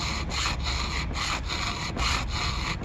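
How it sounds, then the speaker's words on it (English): A hand file sharpens a chainsaw tooth deep in the gullet while reprofiling for a rip cut, giving about seven evenly spaced rasping strokes, close and clear with no voices. "it's filing it until the tooth becomes the shape of the file"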